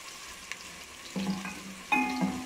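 Onions frying in a pan for a potato chicken curry, giving a continuous soft sizzle with two louder bursts as more food or stirring hits the hot oil, no talking.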